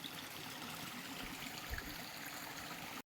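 A hillside stream flowing down toward a dam on a rainy day, a soft, continuous rushing trickle heard faintly and steadily, alone without voices.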